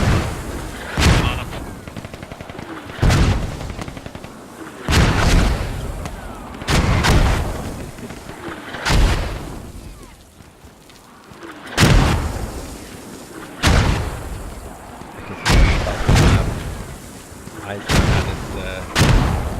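Repeated booming mortar and gunfire bursts in a military shooter game, roughly a dozen heavy broadband blasts spaced every one to two seconds, loud and near, with gunfire crackle between them.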